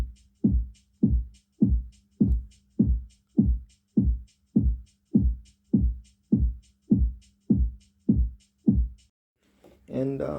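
Kick drum and shaker in an afro dancehall beat: fourteen evenly spaced booming kicks with a light ticking shaker over each hit, ending in a brief burst of other sound.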